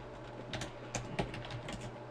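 Fingers tap a computer keyboard while someone types a command at a Windows command prompt, a quiet run of close, uneven clicks with a few sharper keystrokes and no voices.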